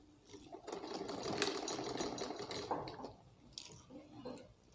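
A sewing machine stitches a seam on an umbrella frock, a close, uneven mechanical whirring that rises and runs for a few seconds, then slows to softer intermittent clicks.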